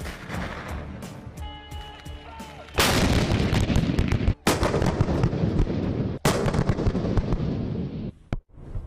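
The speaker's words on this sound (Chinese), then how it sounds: "现在他们已经开始打实弹了" Live artillery shells fire at a military training range at night, heavy booming blasts with long rumbling tails, loud and near, one after another, with brief gaps and a faint voice early on.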